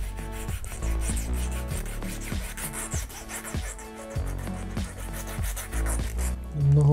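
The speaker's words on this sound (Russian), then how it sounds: "Зачищаю и заложу цевьё крючка." Steady close rubbing and abrasive scraping as the shank of a fishing hook is cleaned for a winter spoon lure, continuous with a repeating stroke rhythm and no talk.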